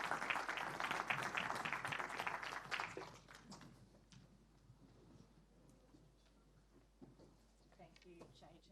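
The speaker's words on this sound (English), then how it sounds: "give the guys a round of applause" An audience at a data and privacy summit applauds loudly for about three seconds, then the clapping thins to scattered, quieter claps while the room settles.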